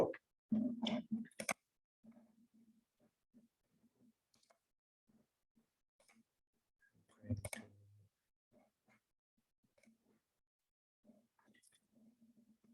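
A computer mouse clicks during a SQL Server installation on a PC. A few sharp, close clicks cluster near the start and one more comes midway, among faint low voice sounds and quiet room tone.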